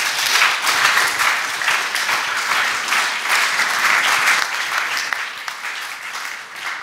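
An audience at a taz lab 2019 panel talk claps loudly and evenly, a sustained wash of applause with no pauses that eases slightly toward the end.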